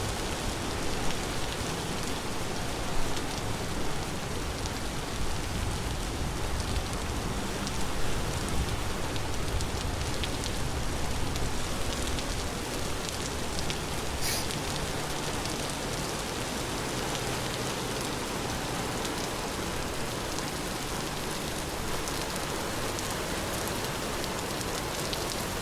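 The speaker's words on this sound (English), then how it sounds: "Storm. All the water sounds. Got waves and rain." Rain falls steadily during a storm in a video game, with waves washing underneath as a continuous, moderately loud wash of water sound and no talking.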